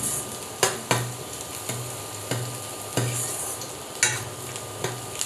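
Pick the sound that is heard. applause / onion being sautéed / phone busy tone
onion being sautéed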